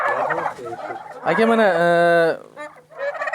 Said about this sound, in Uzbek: xudo xolasa, Big 6 kurkalar